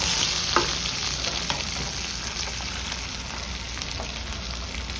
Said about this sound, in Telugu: కొంచెం జీలకర్ర అండి. కొంచెం వేగనిద్దాం ఇది బాగా.